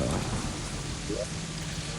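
Rain pours down in the game Terraria as a steady, even hiss of falling drops that fills the whole moment, with a faint voice in the background.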